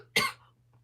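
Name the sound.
cough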